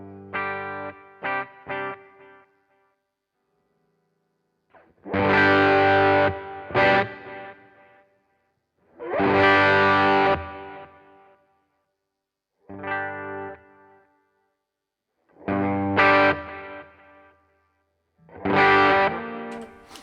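Electric guitar played through a Zendrive overdrive pedal at low gain, giving a mildly driven, warm tone. Chords and short phrases come in bursts separated by pauses of near silence, close and fairly loud with no voice over them.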